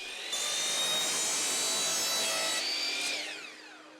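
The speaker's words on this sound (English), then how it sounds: "With the stop block in place, I slide the PVC pipe up against it and make my cuts" A miter saw cuts through PVC pipe set against a stop block, a loud close whine that holds steady for about three seconds and then tapers off as the blade spins down.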